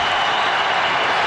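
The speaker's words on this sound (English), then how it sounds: "The crowd urging on the defense." A football stadium crowd roars to urge on the defense on fourth and inches, a dense, steady wash of cheering and noise with no break.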